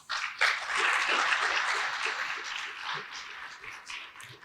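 Conference audience applauding a speaker at an IEEE visualization paper session, brisk indoor clapping from a modest crowd that swells quickly and then tapers off gradually.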